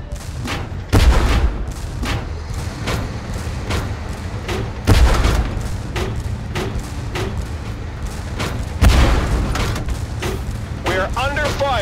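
Repeated gunfire strikes a tank in the video game Tank Force, with heavy booming impacts about every four seconds and lighter shots in between, under steady engine rumble and some talk.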